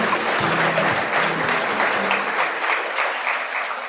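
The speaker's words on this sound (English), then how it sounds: "Let's give them a round of applause" Ladies and gentlemen at a 2024 event give a round of applause, a thick, even patter of many hands clapping at close range, holding steady before easing off slightly toward the end, with a low hum early on.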